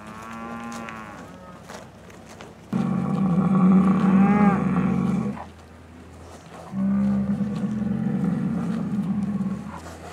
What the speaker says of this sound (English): we leave these cows out on pasture year-round